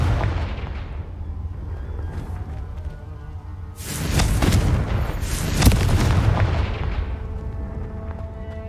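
A Confringo explosive spell from Hogwarts Legacy goes off in two heavy booming blasts close together, with a sharp burst and rumbling tail over a low game ambience.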